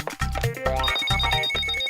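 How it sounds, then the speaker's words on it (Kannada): A mobile phone rings in a cartoon with a loud, repeating electronic ringtone that pulses in an even rhythm close up, with no voices over it. "ಅಯ್ಯೋ, ನಿನ್ ಫೋನ್ ಈಗಲೇ ಬಡ್ಕೋಬೇಕೇನೋ?"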